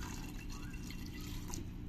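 Water poured from a small height into a pressure cooker of fried chicken with yogurt on a home kitchen stove, a soft steady liquid trickle with faint drips over low background hum, close and fairly quiet.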